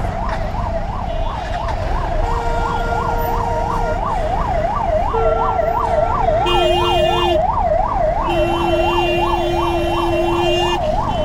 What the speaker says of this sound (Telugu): అంబులెన్స్ని పట్టించుకోడేంటి వీడు.